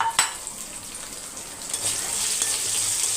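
About twenty small onions (shallots) sauté in a pan for a Tamil kuzhambu, opening with a sharp clatter as they drop in, then a steady close sizzling crackle that grows slightly louder.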